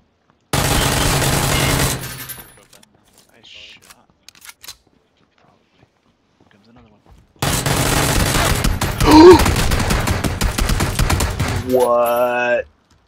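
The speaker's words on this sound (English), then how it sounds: "How is he firing an SKS that fast?" Rapid SKS rifle fire in a video game, loud bursts of quick shots in two long stretches with a quiet gap between, ending in a brief rising tone.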